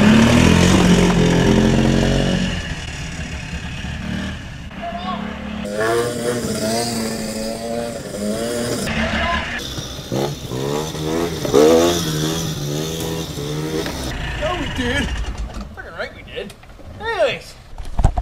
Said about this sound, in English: Now that I'm done driving like a maniac and smoking up the yard with two-stroke oil